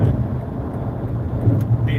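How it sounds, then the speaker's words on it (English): Steady engine and road noise from a car being driven on a road trip, a continuous low rumble throughout with no talk. "I'm wondering if this engine noise is like acoustic, like electronic"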